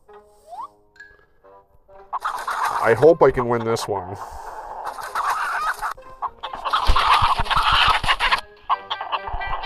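Chickens cluck and squawk in a chicken fighting video game, bursts of loud, close fowl calls and flapping scuffles in several clusters, with someone talking over part of it.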